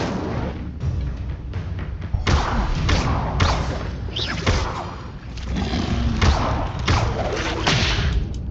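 An Incendio fire spell is cast in the Hogwarts Legacy video game, giving loud, repeated thumping bursts and whooshing blasts in a dense, continuous stream of game combat effects.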